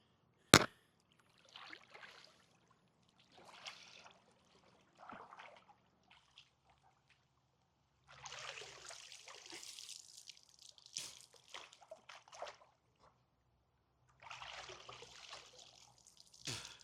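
Water drips and splashes in separate bursts as a swimmer hauls out of a swimming pool with a muscle-up, light patters and trickles coming close by between quiet gaps, with no talking.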